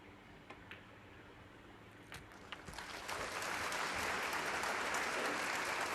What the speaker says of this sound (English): The crowd acknowledging match ball.